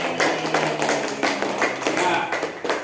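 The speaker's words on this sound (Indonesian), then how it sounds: "Sekali lagi kita kasih tepuk tangan yang meriah kepada kita semua." Children in a classroom clap together in a quick, uneven burst of applause, close and lively, with voices mixed in.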